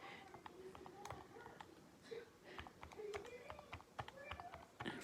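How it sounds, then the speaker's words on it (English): Keys tap on a computer keyboard as numbers go into a spreadsheet, a faint, irregular patter of quick clicks in short clusters, with a voice speaking softly over it. "we're going to take all of these numbers and we're going to type them into this spreadsheet straight down"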